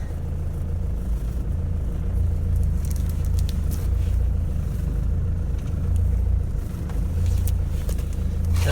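A Ford Transit mk6 van idles in gear on a stationary test after a prop bearing replacement, giving a steady, loud low engine and drivetrain rumble that holds even throughout with no talk.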